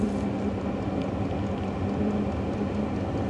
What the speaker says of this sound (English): This is an 8 kilowatt diesel heater. It's made portable. It runs off 12 volt or 110.